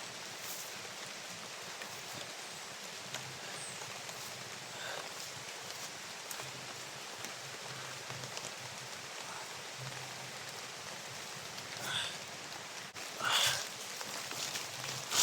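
Rain falling, a soft steady hiss of drops hitting surfaces, fairly faint, with a few louder splashes or bumps near the end.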